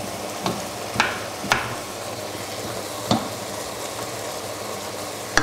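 Liquid sizzles steadily in a one-pot chicken stew pan with pancetta as it reduces while deglazing, with several sharp spoon scrapes and knocks against the pan over the continuous hiss, close and fairly loud.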